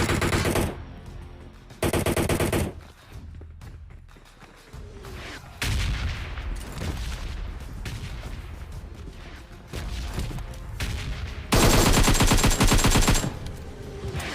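Gunfire from the mobile battle-royale game PUBG Mobile comes in loud, rapid bursts of automatic fire separated by short gaps. The heaviest burst arrives near the end, and no voices are heard.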